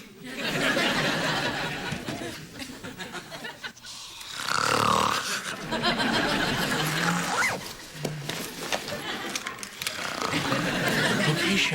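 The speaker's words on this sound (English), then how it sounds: "this is a tape of you snoring" Taped playback of a woman snoring in a sitcom, with loud rasping, snorting breaths in repeated cycles and brief pauses between, filling nearly the whole stretch with laughter and voices mixed in.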